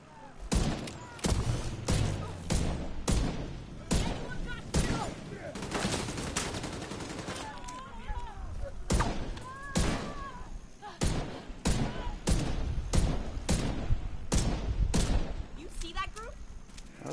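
Rifle fire in The Division 2 rings out as a long series of sharp, loud gunshots, some single and some in quick bursts, spread across the whole stretch. Someone talks over parts of the firing.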